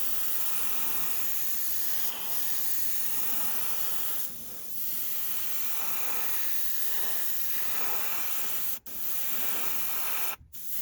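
Steady broadband hiss of an aerosol spraying matte clear coat onto a restored Hornby Dublo three-rail Duchess model locomotive, continuous and close, with a couple of brief breaks near the end.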